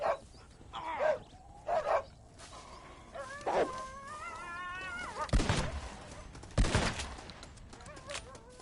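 Dog in Red Dead Redemption (2010) barking and snarling in short aggressive bursts, mixed with heavy thuds and a sharp gunshot-like crack.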